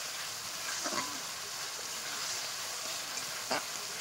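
Chicken curry with onion paste sizzles softly as it is sautéed in a pan, a steady low hiss broken by a couple of faint scraping stirs.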